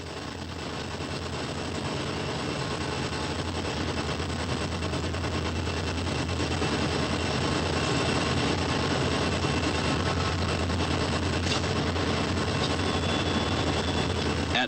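Freight train working down the steep Saluda Grade mountain railroad, filmed in 1984: a loud, continuous roar and rumble holds steady for the whole stretch, with no talking.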